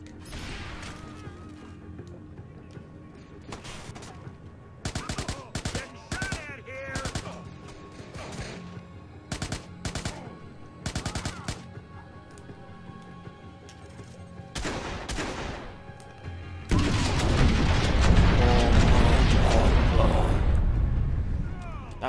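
Gunfire and a grenade explosion in the video game Watch Dogs: scattered bursts of shots with gaps between them, then a loud, sustained rumbling blast, with people talking under and between the shots.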